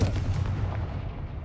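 A Confringo blasting spell detonates in Hogwarts Legacy, a heavy booming blast with a deep low rumble that rolls on and slowly decays over a second and a half.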